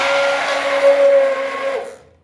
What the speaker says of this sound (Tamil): இப்போ பீட்டரில் வச்சு நான் அதை வெண்ணெய் இப்போ எடுத்து காமிக்கிறேன்